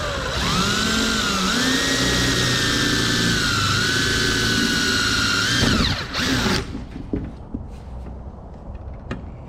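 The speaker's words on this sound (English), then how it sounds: "drilling some more holes" Power drill boring holes into a filler panel on a 1967 Chevelle, a loud close whine that holds and shifts pitch for several seconds, then stops, leaving clicks and handling noise.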